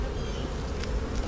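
Honey bees buzz in a dense, steady drone around an open hive during an early spring honey harvest while robbing is under way, with a few louder passes close by.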